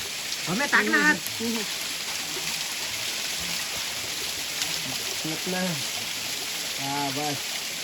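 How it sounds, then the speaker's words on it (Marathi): Steady rain hisses throughout as a broad wash of noise at night, with voices speaking intermittently over it during crab catching. "परत पाऊस सुरू झाला"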